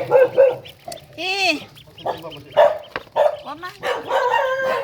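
A dog barks in short bursts nearby, mixed with clucking poultry and background chatter in a busy yard.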